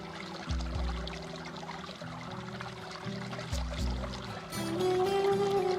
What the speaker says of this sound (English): a circular basin from which the water gently descends the fountain